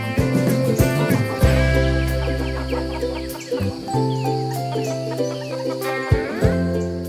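Laying hens in a tunnel-shaped backyard coop built from recycled materials cluck and squawk repeatedly, several birds overlapping up close with loud rhythmic calls and drawn-out cries, with no talking over them.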